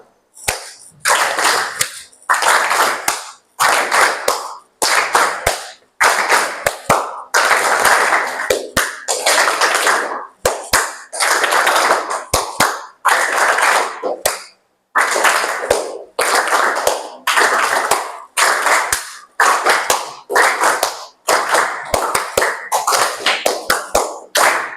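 Hand clapping in a classroom call-and-response pattern: a leader claps one to three times and a group answers, giving sharp, loud bursts of claps in alternating groups with brief pauses between them.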